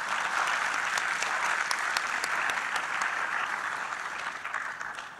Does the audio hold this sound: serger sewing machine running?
no